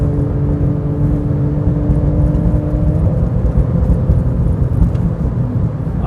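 A Porsche 911 engine screams at high revs along a racetrack straight, a loud sustained whine and roar heard from inside the car, with a steady tone that shifts slightly partway through, no voices.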